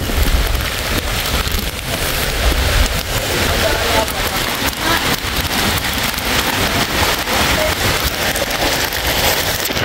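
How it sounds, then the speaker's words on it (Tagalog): Heavy typhoon rain pounding steadily on surfaces, a dense, loud roar of downpour with gusty wind, continuous throughout. "Lakas ng bagyo."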